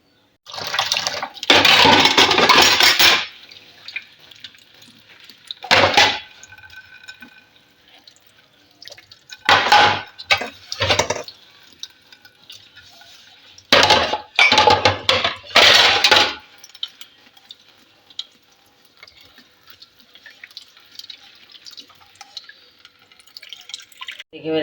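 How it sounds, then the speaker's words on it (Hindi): Dishes, pots and a tava are scrubbed and rinsed under running tap water in a home kitchen, bursts of splashing water and clinking utensils separated by quieter pauses, with little talk. "मैं मौका गनीमत जान के ना बर्तन धो लेती हूँ"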